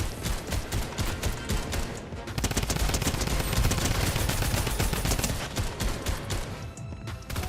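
Fortnite gunfire as rapid, dense automatic shooting, loud and close, continuing almost without pause through the whole stretch with brief gaps near the start and end.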